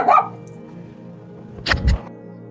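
A small dog barks at a honey bee at home, two sharp, close barks, one at the start and another pair near the end, with quiet room sound between.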